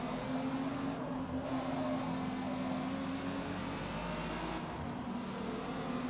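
A 250 PS VW Golf R32 in Forza Motorsport holds a steady engine drone with a sustained tonal whine, running loud and continuous throughout with no voices.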